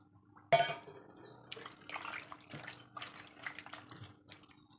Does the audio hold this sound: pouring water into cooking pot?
yes